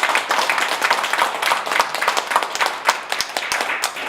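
An audience claps to welcome a speaker onto the stage, a brisk, close patter of many hands that stays lively and even throughout.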